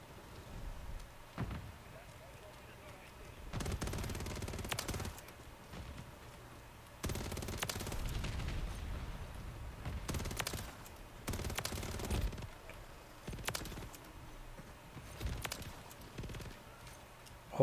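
WSP Swarm submachine gun fire in Modern Warfare 3, fired in several rapid bursts of automatic shots with short pauses between them, fairly quiet within the game mix.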